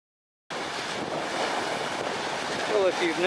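Waves wash onto a lake beach as wind gusts across the microphone, a steady, loud rushing surge that begins abruptly after a moment of silence.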